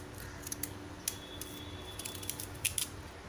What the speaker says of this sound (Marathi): हे बघा कसा हा मी सुरीने कापून घेते आहे